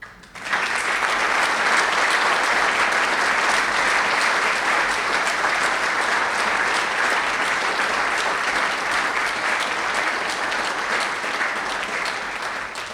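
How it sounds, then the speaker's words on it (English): A roomful of people applauds at an evening event, a thick, steady roar of many hands that starts abruptly and carries on evenly for over twelve seconds, tapering slightly at the end, with no talking. "I'd like to ask for a round of applause for Anne for starting it"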